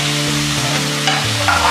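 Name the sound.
stirring tomatoes frying with masala in a pan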